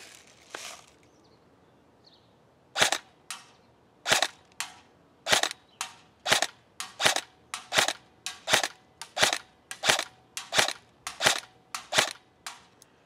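A King Arms Black Rain Ordnance BRO Fallout 15 airsoft rifle fires semi-auto at a target about 100 feet away: roughly seventeen sharp, crisp cracks, irregularly spaced at first, then a steady rhythm, loud and close.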